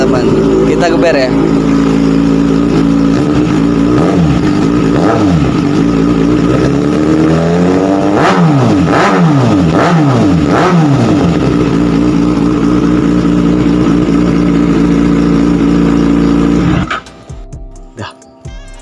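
Close and very loud, a Kawasaki Ninja ZX-636 fitted with an Austin Racing exhaust is blipped repeatedly, several sharp rev spikes rising and falling over a rumbling idle, before the engine suddenly cuts out; voices come through at times.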